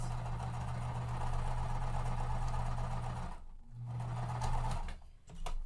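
A sewing machine stitches quilt fabric pieces, including batiks, with a steady close whirring run, a short pause, another burst of stitching, then handling noises.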